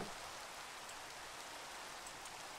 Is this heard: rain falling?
yes